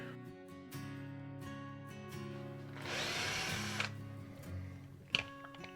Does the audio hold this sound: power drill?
yes